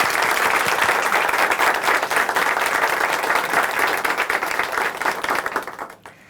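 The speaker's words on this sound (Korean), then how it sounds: "박수 보내드릴까요?" A church testimony program's studio audience claps in sustained, even applause, full and close, tapering off into quiet at the very end.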